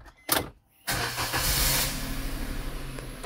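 A Maruti S-Presso car's system starts with a brief click and whir, then a steady mid-level blowing hum of the air conditioning fills the cabin, close and continuous.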